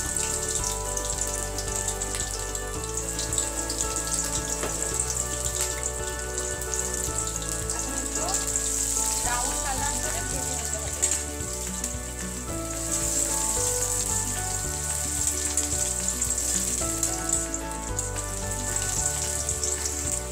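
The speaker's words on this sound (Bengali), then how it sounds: "ভালো করে পেঁয়াজ কাঁচামরিচ গুলো ভেজে নিতে হবে।" Chopped onions and green chilies with cardamom and cinnamon fry in a pan, giving a continuous dense sizzle with occasional crackles and light utensil sounds, close and steady with no voices.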